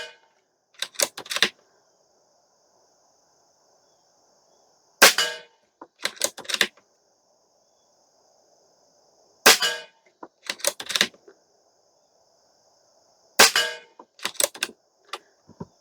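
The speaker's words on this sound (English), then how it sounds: "let's take a 5-shot group at another target" Stoeger XM1 Scout airgun fires in four separate bursts of sharp, close cracks, each followed by quick mechanical clicks, with near silence between bursts and no talk.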